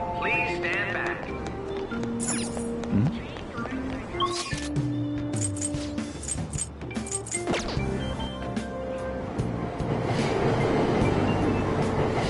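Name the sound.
subway train departing station platform, Persona 5 Royal video game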